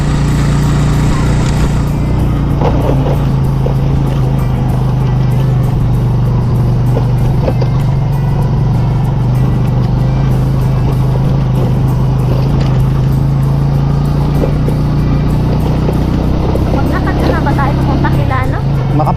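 A motorcycle rumbles steadily through a rough, uneven road with low clearance, the engine drone loud and continuous throughout, with road noise and scraping bumps mixed in.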